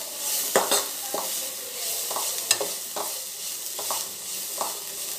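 Spoon scraping and stirring garam masala and coriander powder into a wheat flour snack mixture, a steady run of soft scrapes with sharper clinks, close and alone with a faint sizzle beneath.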